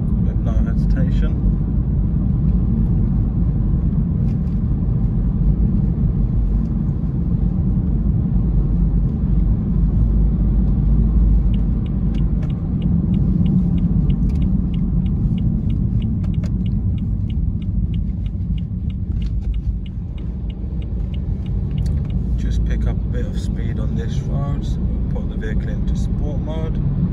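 Interior of a 2014 BMW 320d xDrive Sport, a steady diesel engine rumble and road drone as the car drives and smoothly accelerates, with a constant low hum and light ticking sounds toward the end.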